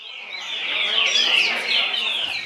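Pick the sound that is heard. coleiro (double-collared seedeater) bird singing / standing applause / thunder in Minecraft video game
coleiro (double-collared seedeater) bird singing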